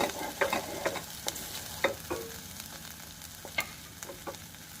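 Ginger, turmeric, chili and cumin paste sizzles in a hot pan while being stirred, with soft frying crackle broken by sharp scraping clicks of a utensil against the pan.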